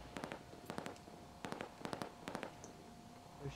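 Enemy gunfire in the Halo 5 DayZ game mode, several quick clusters of sharp cracking shots in irregular bursts, faint and somewhat distant, with no talking.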